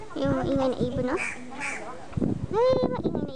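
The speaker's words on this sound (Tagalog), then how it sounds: "Yung maingay na ibon, no?" Loud quacking duck-like bird calls at a wetland reserve in Malaysia across the water, repeated harsh calls in bursts, mixed with people talking nearby.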